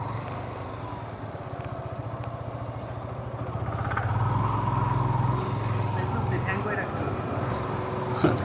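A motorbike rumbles steadily at low speed into the Jamuna Future Park parking garage, its engine note echoing in the enclosed space and rising slightly midway, while someone talks over it.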